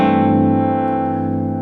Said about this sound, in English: A minor with a G and a bass sounds like this.